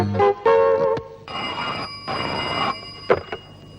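An old-style telephone bell ringing loudly in repeated bursts with short pauses between them, close by and with no voices over it.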